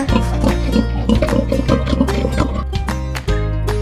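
A pig snorts and grunts in a rapid string of short bursts, heard over loud rhythmic music.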